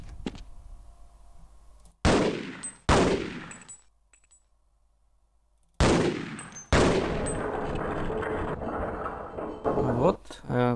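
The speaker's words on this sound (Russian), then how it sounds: "Итак, далее переходим к стрельбе." Gunfire in a video game level editor: a few sharp, loud shots ring out with decaying tails and pauses between them, then a longer sustained burst of firing. No one speaks.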